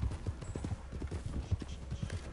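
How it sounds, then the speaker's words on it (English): Hooves of a Norfolk Roadster horse in Red Dead Online clip-clop in a quick, steady galloping rhythm, close and clear, with no talking over them. "oh, my horse is a beast"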